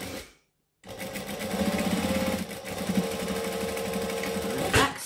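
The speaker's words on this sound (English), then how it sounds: "This one I'm going to sew from the bottom up." Sewing machine stitching a fabric pouch seam with a quarter-inch seam allowance, a steady, close, fast mechanical whir running for about four seconds after a brief pause, ending in a short backstitch burst.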